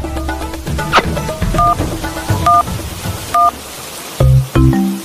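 A telephone is dialed with a quick series of loud touch-tone beeps of varying pitch, spaced irregularly with short pauses, with no other sound around them.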